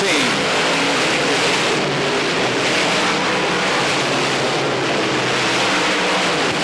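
Dirt track race cars roaring down the back straight at a 1990 race at Pennsboro Speedway, a dense, loud, continuous engine howl with broadband roar and a swelling pass, and a commentator talking over it.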